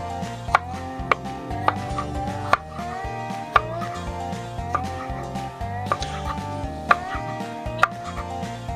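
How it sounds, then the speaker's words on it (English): A knife dices venison on a board beside a campfire, with sharp, regular chops landing roughly once a second over a steady low bed of background sound. "We'll get this thing diced up here and get all this done up."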